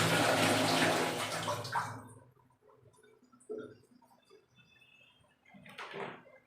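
Water gushes from a bathroom tap in a loud burst, then cuts off, leaving faint knocks and a brief splash in a quiet room.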